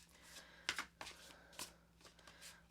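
Tarot cards being shuffled by hand, a few crisp riffling bursts and soft slaps close by in a quiet room, with pauses between them.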